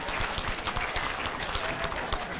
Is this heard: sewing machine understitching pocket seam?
no